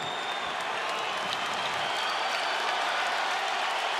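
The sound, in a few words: crowd cheering at UFC fight after first round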